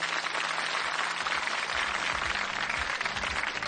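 A television game show audience in a studio claps steadily through the whole moment, a dense, even wash of applause with no voices above it.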